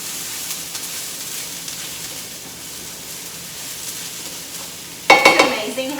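Chopped onion sizzles quietly in olive oil in a pan, a faint steady frying hiss, until a spoon scrapes and clatters through it in a sudden burst of stirring near the end.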